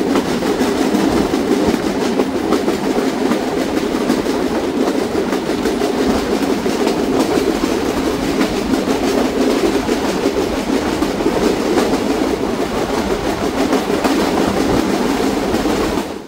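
The Rupsha Express, a cross-country train in Bangladesh, rolls along the rails with a loud, close, steady rumble and a continuous rhythmic clatter of wheels that lasts the whole time.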